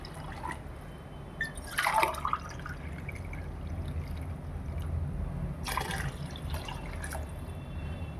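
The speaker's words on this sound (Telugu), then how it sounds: "బగారా రైస్ కోసము 2 గ్లాసుల నీళ్ళు వేసుకుంటున్నాను" Water poured from a glass onto rice in a pressure cooker for bagara rice, two short splashing bursts of trickling liquid over a low steady background hum, with no talk.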